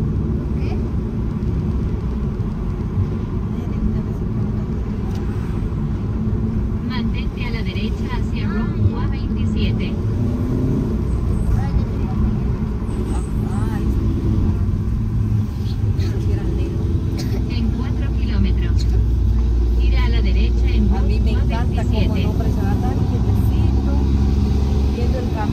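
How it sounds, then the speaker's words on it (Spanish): Car driving along a road near Lake Amatitlán in Guatemala and passing a truck, with steady engine and road rumble throughout and people talking over it. "Uy, vamos a tener que rebasar a este carro aquí."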